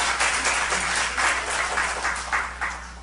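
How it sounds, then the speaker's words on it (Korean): A church congregation applauds graduates during a Sunday service: steady, dense clapping from many hands fills the room, swelling in a few small bursts over a few seconds. "우리 큰 격려의 박수 한번"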